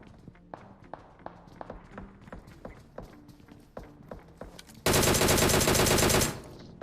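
A DP28 machine gun fires in a video game. Scattered quick footsteps and shuffling lead into a loud, sustained rapid-fire burst lasting about a second and a half, then it cuts off abruptly.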